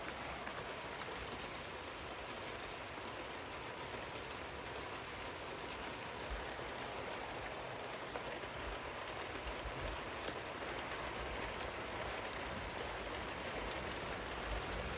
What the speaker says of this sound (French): il pleut de plus en plus fort